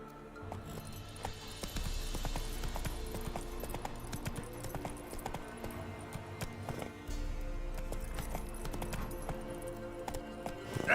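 Hoofbeats of Geralt's horse Roach gallop in a steady clip-clop rhythm in The Witcher 3, fairly close and moderately loud over low ambient game music, with no speech.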